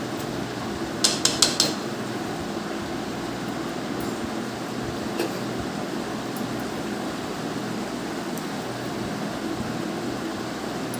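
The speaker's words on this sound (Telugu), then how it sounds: "ఇప్పుడు గరిటెతో మళ్ళీ కలిగి పెట్టుకోవాలి." A metal ladle clinks against a pot of gongura prawn curry in a quick burst of three or four taps, then scattered faint scrapes over a steady background whir.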